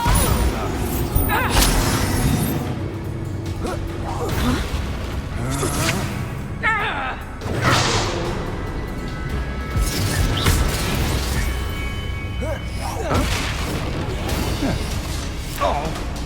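Repeated Bombarda spell explosions in Hogwarts Legacy boom and crash in heavy bursts, mixed with whooshes and clattering game effects, while a voice talks over the dense, loud combat.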